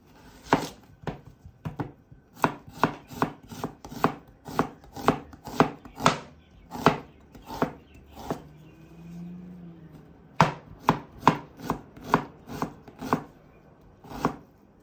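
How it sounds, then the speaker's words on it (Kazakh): A knife dices onions into small cubes on a cutting board, steady quick rhythmic bursts of sharp taps, pausing briefly, then resuming close by. "Осыларды майда кубик етіп турап аламыз ең бірінші."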